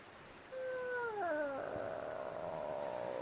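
Electronic sound effect from a pop-up birthday greeting card, a short descending warbling tone sweep followed by a steady buzzy chime, alone and fairly close.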